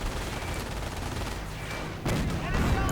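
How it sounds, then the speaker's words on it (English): MG42 machine gun fire in a World War II strategy game rattles amid dense, continuous battle noise, with a heavier burst near the end and no talking. "Riflemen getting pinned to the ground like bugs by the MG42."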